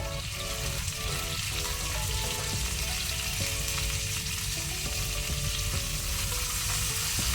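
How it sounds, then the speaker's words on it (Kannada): Two sprigs of chopped curry leaves hitting hot oil already frying ginger and garlic, giving a loud, dense, unbroken crackle and sizzle throughout, close up with no voices. "ಈಗ ನಾನು 2 ಕಡ್ಡಿ ಒಗ್ಗರಣೆ ಸೊಪ್ಪನ್ನು ಸಣ್ಣಕ್ಕೆ ತುಂಡು ಮಾಡಿ ಹಾಕೊಳ್ತೇನೆ"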